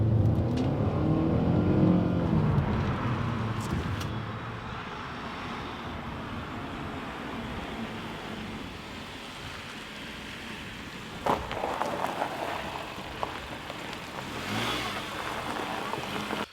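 A 2020 Nissan Rogue Sport on twisty roads: the engine swells at first, then settles into a softer hum with tyre and road noise. A few brief knocks occur toward the end.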